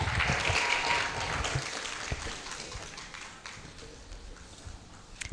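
Audience applause at a law faculty roll call ceremony: a dense wash of clapping that is loudest at the start and gradually thins and fades toward the end.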